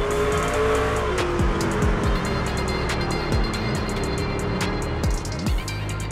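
Race car in the iRacing video game spinning out, engine revving up and down in rapid shifts with a drawn-out squeal of tires, loud and close throughout.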